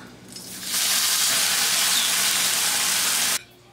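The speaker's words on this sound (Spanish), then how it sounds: "Y voy a continuar friendo los demás" Loud, dense sizzling of tilapia fillets frying in hot oil, rising suddenly and holding steady for a few seconds before cutting off.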